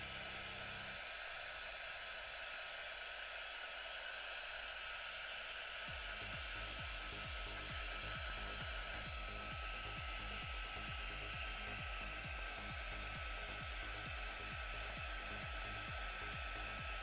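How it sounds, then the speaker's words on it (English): Steady, loud roar of a heat gun blowing hot air over wet oxide inks on a ceramic piece, with a rhythmic rubbing or tapping pattern joining midway, no talking. "not to keep the heat gun on the one spot for too long"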